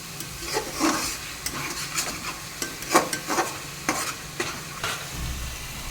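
Oil, ginger, cinnamon, bay leaf, onion paste and yogurt being stirred together in a pot for mutton dum biryani, with repeated close scraping strokes over a continuous sizzle and no voices.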